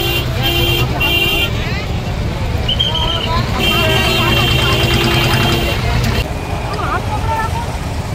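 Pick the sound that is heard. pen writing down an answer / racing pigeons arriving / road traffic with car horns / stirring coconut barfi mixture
road traffic with car horns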